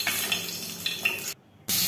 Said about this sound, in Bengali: এখন রুটিগুলোকে ভেজে নিচ্ছি।